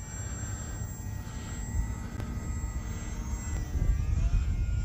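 A Hobbyzone AeroScout S 1.1m RTF electric RC plane flies in strong wind, its motor giving a steady whine over heavy, continuous wind buffeting on the microphone.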